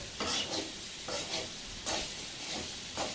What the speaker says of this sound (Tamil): இப்போ 5 மினிட்ஸ் ஆகிட்டு மறுபடியும் நம்ம திறந்து கிண்டி பார்ப்போம்